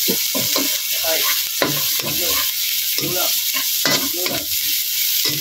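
Red onion frying in a hot pan for Filipino-style garlic fried rice, a steady loud sizzle with repeated scraping stirs of a utensil, heard close up.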